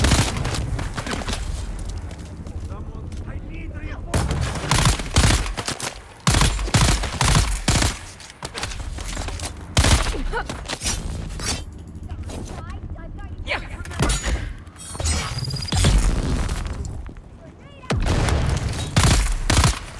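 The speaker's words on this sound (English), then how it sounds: "Man, these people spam grenades worse than Call of Duty, man." Repeated grenade explosions and bursts of gunfire fill a Dune Awakening game fight, loud booms and rattling volleys crowding together with brief gaps, and a player talking over the action.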